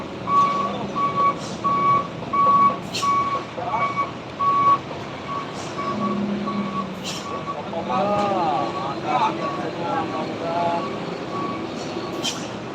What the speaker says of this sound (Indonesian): Ramai kendaraan berat yang melintas sore ini